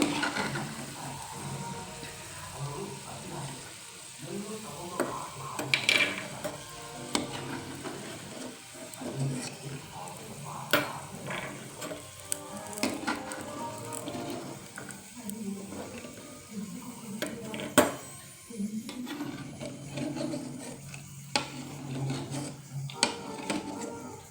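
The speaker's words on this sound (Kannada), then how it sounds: "ಇದಕ್ಕೆ ಮೊದಲು ಕಡಲೆ ಬೀಜ ಹಾಕೊಂಡು ಹುರ್ಕೋಬೇಕು" Peanuts frying in a pan for puliyogare and being stirred, a scraping, rasping rattle of nuts against metal in irregular strokes over a faint sizzle, fairly quiet and close.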